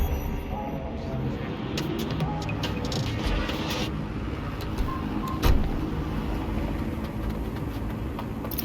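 Car driving in the Watch Dogs Legion video game: a steady engine and road rumble runs throughout with a brief thump midway, and faint background voices sit low in the mix.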